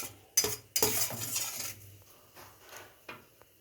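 Metal spoon scrapes and clinks against a pot while chicken curry ingredients for a homemade country-style curry are stirred and mixed together, a few loud clatters followed by softer scraping strokes, close and alone.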